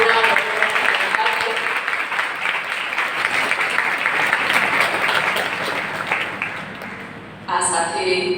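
Sustained audience applause at a morning talent programme, a dense steady wash of many hands clapping for the full length, fading slightly near the end before a brief renewed burst.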